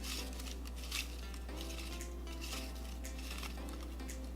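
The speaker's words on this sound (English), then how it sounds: "I have all the names of the people that entered in this little bowl. I'm gonna mix it up." Paper name slips are stirred around in a small bowl, producing a continuous soft rustle with faint clinks against the bowl over a steady low hum, close and quiet.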